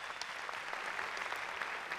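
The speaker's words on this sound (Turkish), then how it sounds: "Alkışlarımızla uğurluyoruz Zekai Tuncay'ı." Audience at a Popstar television stage show applauds steadily, a dense even clapping from a crowd, faint and somewhat distant.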